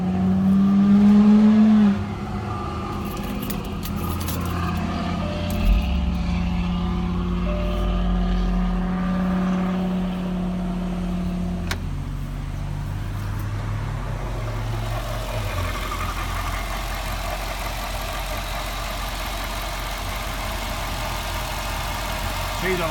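1998 Jaguar XJR supercharged engine with 60,000 miles starting up, then settling into a steady low idle that stays loud and close, with someone talking over it.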